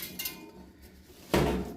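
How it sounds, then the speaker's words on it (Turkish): Metal spokes of a bicycle wheel tapped one by one to find broken ones during wheel truing, giving soft metallic clinks followed by a louder, denser knock near the end. "Dolayısıyla kırık tellerimizi şöyle kontrol ederek tek tek kontrol ederek şöyle vurarak zaten kırık tel belli olur."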